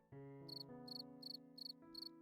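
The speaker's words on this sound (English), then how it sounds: "That sounded more like a cricket." A quiet, stylized video game cricket chirping in five short bursts over a steady low musical drone, regular and evenly spaced.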